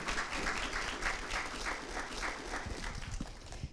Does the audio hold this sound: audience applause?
yes